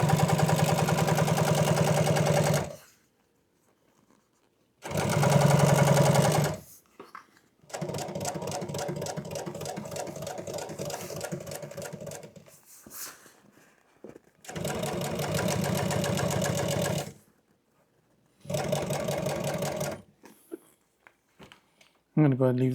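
An upholstery sewing machine stitches welt onto a boat cushion in loud bursts of whirring motor, several separated by silent pauses, with talk in between.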